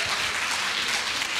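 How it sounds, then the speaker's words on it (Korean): Audience applause at an academic conference closing speech, a dense steady wash of clapping filling the whole moment without a break, with no talk over it. "여러분 박수 한번 쳐주십시오."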